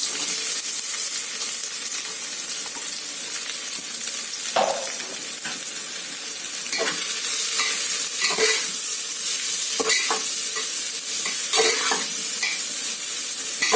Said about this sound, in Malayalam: നല്ലവണ്ണം ഒന്ന് വഴറ്റിയെടുക്കുക.